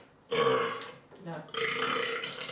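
A person lets out two long, loud belches close by, one right after another during a belching round, with a short gap between them.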